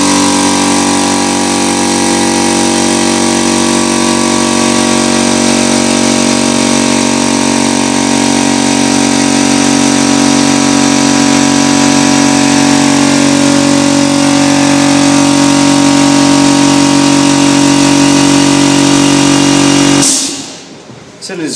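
An air-filling machine pumps air into a sealed cylinder for an airtight test, giving a loud, steady hum and hiss that runs unbroken for about twenty seconds, then cuts off abruptly.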